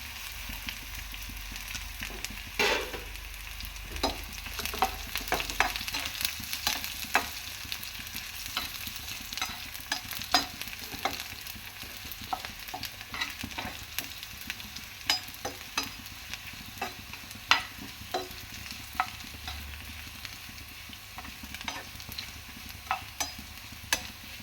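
Onion, dried red chilli and curry leaves frying in oil for sambar, a soft continuous sizzle with scattered sharp crackles and pops throughout, fairly quiet and close.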